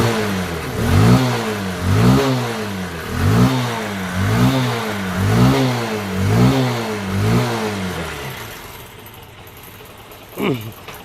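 A Bajaj Discover 150 motorcycle engine after a misfiring fix, revved again and again in smooth rising-and-falling surges about every second, loud and close, then dropping to a low idle with a brief knock near the end.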